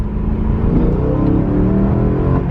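A BMW E92 M3's high-revving V8 climbing in pitch as it revs, a smooth, layered engine drone heard from close by, steady and loud with no voices over it.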